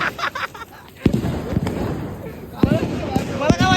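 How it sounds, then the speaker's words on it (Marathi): Firework rockets set off outdoors among friends, with several sharp pops and bangs scattered through the clip, some followed by a rising whistle, over ongoing talk and crowd noise. "क्रिस बोलला रॉकेट फोडायचं आता."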